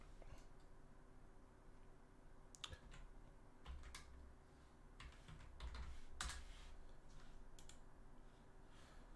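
Steady, quiet typing on a computer keyboard, with irregular clusters of key clicks and brief pauses, heard alone and close up.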